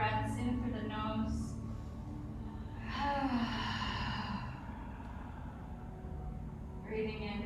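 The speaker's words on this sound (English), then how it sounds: "2 more breaths in through the nose." Slow breaths drawn in through the nose during a yoga class, breathy inhalations under a voice speaking softly, with a low background hum.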